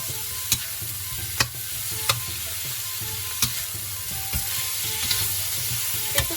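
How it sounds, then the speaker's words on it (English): Broccoli tossed into a hot pan for Chinese-style beef and broccoli stir-frying, a steady close sizzle broken by sharp clanks and scrapes of the utensil every second or so, with no voices. "Throw our broccoli in now."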